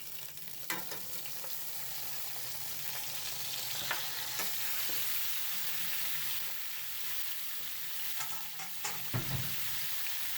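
One kilo of bone-in beef frying in a pot for korma, a dense steady sizzle filling the clip with occasional knocks and scrapes of a stirring spoon, no talking.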